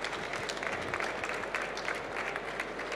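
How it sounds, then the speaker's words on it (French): Audience applause at the close of a French conference talk on artificial intelligence, a steady dense wash of many hands clapping for the full stretch, moderately loud and fairly distant, with no speech over it. "On peut l'applaudir bien fort."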